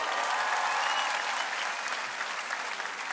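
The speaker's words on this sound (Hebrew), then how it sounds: "חברים, כפיים, כפיים!" A large concert audience at an outdoor amphitheatre show in Caesarea applauds loudly and continuously, a dense wash of clapping that fades slightly toward the end.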